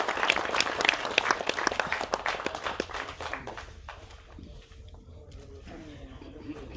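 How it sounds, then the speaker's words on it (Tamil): Loud applause breaks out at a Tamil film associations' award presentation, then thins and fades after a few seconds into quieter room noise. "ஒரு பலத்த கரகோஷத்தோட இந்த விருதை கொடுத்துடலாம்."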